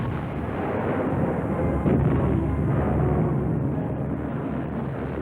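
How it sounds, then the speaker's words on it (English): A barrage of 37mm anti-aircraft guns in World War 2 combat, heard as a loud, continuous dense rumble with muffled thumping bursts throughout and no clear separation between shots. "A number are hit and shot down as 37mm guns join in the anti-aircraft barrage."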